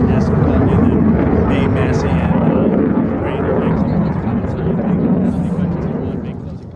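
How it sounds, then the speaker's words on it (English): An airplane passes overhead as a loud, broad roar that holds steady and then slowly fades, with people speaking underneath it. "Plane."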